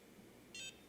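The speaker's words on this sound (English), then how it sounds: "waiting for the beep" A single short electronic beep from a handheld skincare gadget held against the skin, brief and clear over a quiet background.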